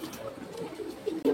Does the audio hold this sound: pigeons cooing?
yes